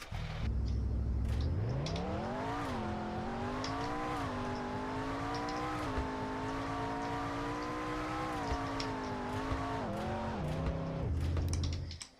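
Revving of a car engine in the Roblox game Car Dealership Tycoon, a synthetic tone that climbs from idle, holds a high, loud drone with small dips, then drops back down near the end.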